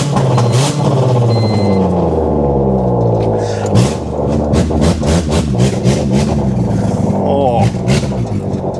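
A Honda car engine running just after being cranked into life, a close mid-pitched motor hum that rises and falls with revs throughout, with someone talking excitedly over it.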